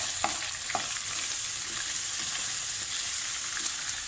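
Steady sizzling of chicken frying with ginger garlic paste in a pan, with a few clicks and scrapes of stirring over a constant crackling hiss.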